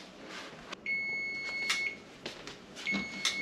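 A kitchen timer goes off while homemade pizza bakes on a pizza stone. It gives high, steady electronic beeps in two separate bursts over a faint hum, with no voices.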